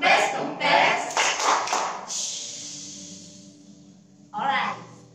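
A group plays the rhythmic clapping game tepuk sepeda kempes during a church service, sharp hand claps in quick patterned runs under chanted voices, then a short pause before one more clapping burst.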